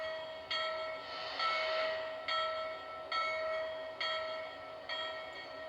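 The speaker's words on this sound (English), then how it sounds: "You can manually ring the bell if you don't like the automatic." Bell on a Lionel Legacy model steam locomotive is rung manually, giving steady, evenly spaced dings roughly every 0.8 seconds. The ringing is clear, moderately loud and alone, with no talk.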